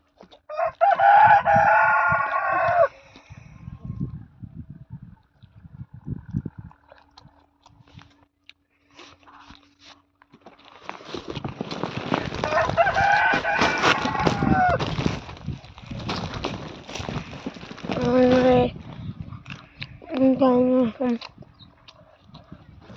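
Chickens cluck and a rooster crows nearby, with scattered rustling and people talking in between.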